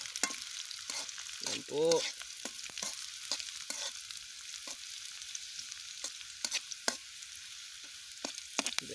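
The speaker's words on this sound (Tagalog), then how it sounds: "lagay na yung sibuyas. Hintayin natin mag brown yung bawang mga kawasak." Onion and garlic frying in a pan until browned, a quiet crackling sizzle punctuated by sharp spatula scrapes and clinks, with a brief spoken phrase partway through.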